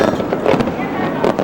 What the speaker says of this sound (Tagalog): Japanese fireworks displays, which are among the most impressive in the world